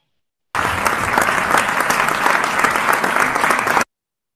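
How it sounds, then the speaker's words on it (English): Warm audience applause for a young volunteer receiving the Sri Ratan Award at a ceremony, a steady, dense burst of clapping lasting a few seconds and then stopping abruptly. "May we have a round of applause for our young awardee."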